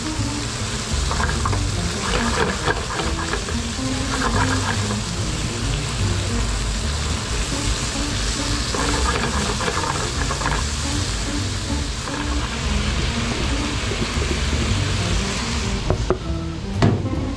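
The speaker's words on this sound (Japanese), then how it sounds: "肉を炒めます" Meat stir-fries over a high flame in homemade long-leaf flavored oil for Cantonese noodles, a loud, dense sizzle with rhythmic scraping and tossing throughout and a few clinks toward the end.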